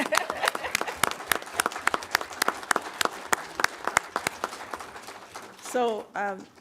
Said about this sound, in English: Yes, we can applaud that, I think.